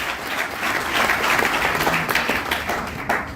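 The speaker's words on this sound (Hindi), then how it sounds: "मिस्टर वीरेंद्र कुमार सिंह सर और राजाराम त्रिपाठी सर के लिए जोरदार ताली होनी चाहिए" A hall crowd at a Pune Crown Diamond celebration breaks into loud, sustained applause for two honored speakers, dense steady clapping that holds strong for several seconds and dips slightly at the end.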